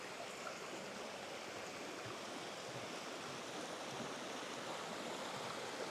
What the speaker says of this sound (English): Nice easy access of flowing water